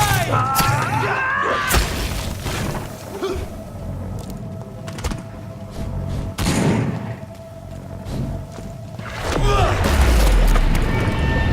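A grenade blast in the video game Vampyr, heavy booms and shattering impacts amid combat noise, with characters shouting over the chaos.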